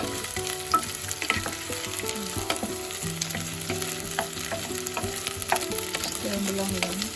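Soya chunks and peas sizzle and fry in a pan while being stirred, with steady crackling and scraping clatter throughout, close and fairly loud, no talking.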